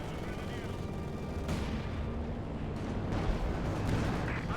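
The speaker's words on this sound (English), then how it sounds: "Another Katyusha barrage here from Stephenn and the Red Army" A Katyusha rocket barrage pounds away in the World War II strategy game Company of Heroes 2, a dense, continuous roar of launches and blasts with crackling gunfire layered throughout and no clear pauses.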